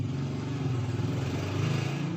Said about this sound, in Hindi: ये गली में से आवाज़ें आ रही हैं बाइक्स की